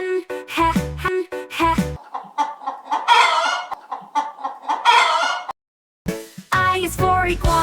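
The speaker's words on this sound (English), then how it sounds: "H is for hen, hen." A hen clucks in a busy, repeated burst of calls, close and loud, with farmyard fowl cries mixed in among the bright tones of a children's alphabet song.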